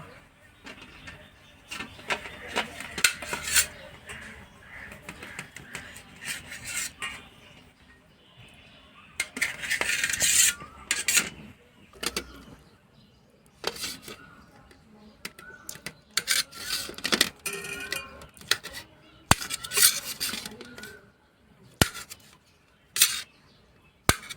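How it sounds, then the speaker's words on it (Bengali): Katla fish roe is cut in a village kitchen, heard as intermittent bursts of scraping and slicing against a surface, separated by quiet pauses. "এখন আমি মাছের ডিমটা কেটে নেব"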